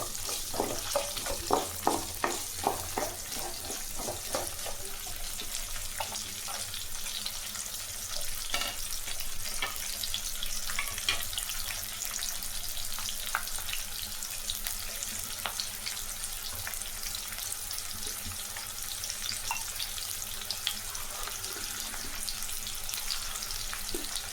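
Sliced onions sauté in a pan for roadside-style onion chutney, a continuous close sizzle with frequent spatula scrapes and clicks, louder taps early on, and no talk.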